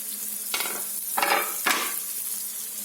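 Green peppers frying in a pan for menemen, with soft steady sizzling and three louder bursts of stirring or scraping against the pan.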